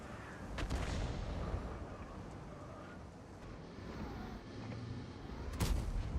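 A World of Tanks-style tank cannon on the Concept No. 5 fires twice, one heavy boom early and another near the end, over a low rumbling engine drone.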